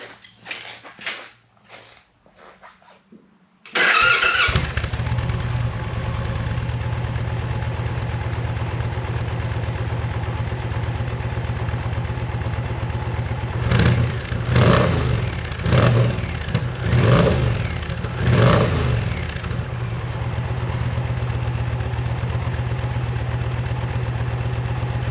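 Indian Challenger Dark Horse motorcycle on its stock exhaust, cold-starting after a few clicks, then settling into a steady, close, throbbing idle with several short blips of throttle in the middle before returning to idle.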